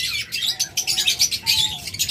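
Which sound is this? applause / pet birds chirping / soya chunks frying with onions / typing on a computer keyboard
pet birds chirping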